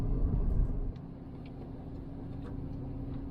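Range Rover L322 Supercharged driving through fresh snow in Cody, Wyoming, heard as a steady low engine and road rumble from inside the cabin, continuous and moderately loud with no talk.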